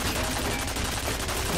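Dense, loud gunfire from the F.E.A.R. video game, a continuous rapid barrage filling the whole moment with no clear gaps between shots.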